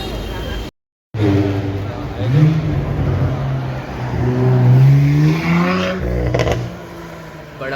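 BMW sports cars, including M4 and M6 models, rev and rumble at a Sunday car meet in Mumbai, with engine notes rising in pitch over crowd chatter and voices nearby.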